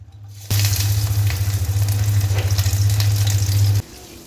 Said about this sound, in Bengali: কড়াইটা যে গরম হয়ে গেল তেল দিয়ে ইলিশ মাছের মাথাগুলোকে আমি ভেজে নেব